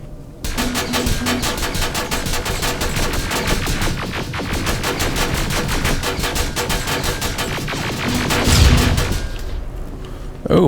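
Turret gunfire in the video game Terminator: Resistance: a long, rapid, evenly spaced stream of loud shots running nearly ten seconds, swelling briefly near the end before stopping.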